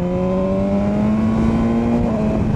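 A 2017 BMW S1000R with an Akrapovic exhaust and removable EU4 baffle pulls hard in fourth gear from about 4,000 rpm. Its loud, close engine note climbs steadily in pitch throughout, with no voices over it.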